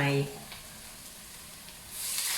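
Water hits a hot pan during a Thai spicy catfish and green papaya stir-fry, giving a loud sizzling burst, then a lower steady frying hiss that swells again at the end.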